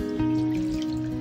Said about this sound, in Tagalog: Dagdagan natin ang tubig guys,